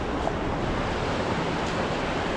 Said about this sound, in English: Oh, this wind is screwing me,